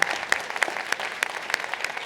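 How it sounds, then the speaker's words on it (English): A town hall rally crowd claps for first-time attendees, a moderate wash of applause with distinct sharp claps popping out at a regular pace near the front. "Let's give a round of applause for everyone for who this is their first rally."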